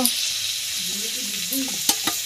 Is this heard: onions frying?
yes